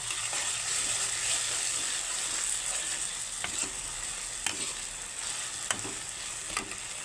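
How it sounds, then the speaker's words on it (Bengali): Potato pieces fry in oil in a pan during home cooking, giving a steady, dense sizzle with occasional clinks and scrapes of stirring, and no voices. "আলুগুলো এখন একটু ভাজা ভাজা হয়ে যাক"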